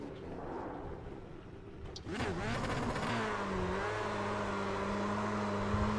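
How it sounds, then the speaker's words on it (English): A car engine revs in a racing video game while spinning a donut on the spot, a steady loud mid-pitched drone holding after a brief rising burst, with no talk over it. "Donut on the spot."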